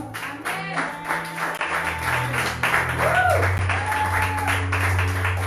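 A church congregation applauds and cheers in praise, a steady wash of clapping building in loudness over several seconds, with tonal music and vocal sounds from the crowd mixed in.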